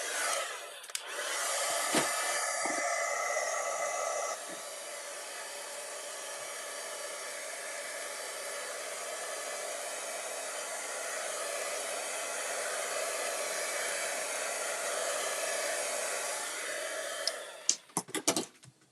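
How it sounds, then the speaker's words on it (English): An embossing heat gun blows hot air over handmade holiday cards, a steady loud whirring hiss that runs for about fifteen seconds before clicking off with a few handling knocks. "All right, we're going to hit these with the heat tool."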